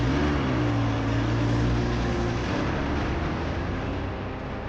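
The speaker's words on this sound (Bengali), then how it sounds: "একটু আস্তে গাড়ি চালাও, মাথাটা ঠান্ডা রাখো, এইভাবে গাড়ি চালিও না প্লিজ" A car being driven fast in heavy traffic, a loud steady engine roar and rushing road noise with a low droning hum that shifts pitch, close and continuous, no voices.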